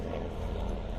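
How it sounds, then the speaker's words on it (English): A military helicopter passing overhead above a Louisiana garden on a hot day, its steady low rotor rumble filling the scene as a continuous, fairly loud drone with no voices. "Yep, that's a helicopter."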